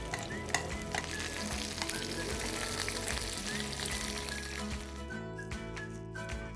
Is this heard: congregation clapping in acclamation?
no